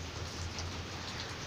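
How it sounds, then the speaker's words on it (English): Steady rain falls at night in a residential neighborhood, a continuous, even hiss of drops close by with no voices. "it's raining, so"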